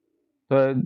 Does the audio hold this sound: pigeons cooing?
yes